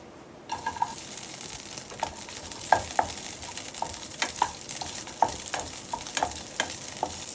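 Onions and green chillies frying in hot oil in a pan, a steady bright sizzle with frequent crackles and light spatula clinks scattered throughout, close-up with no talking.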